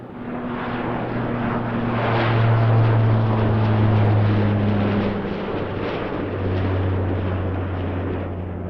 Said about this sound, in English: Landing clearance was given to this WestJet coming in.